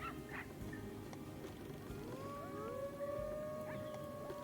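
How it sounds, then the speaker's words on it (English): Wolves howl in a North America zoo management game, several long rising then steady wails overlapping like a distant siren above a constant bed of ambient park noise, no talking. "Oh my god, they're howling!"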